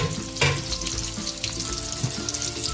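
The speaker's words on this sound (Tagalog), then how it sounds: "Lagyan na natin yung ating isdang pampano" Pompano fish frying in a covered pan, giving a steady, close sizzle and crackle with a few light clatters, no voices.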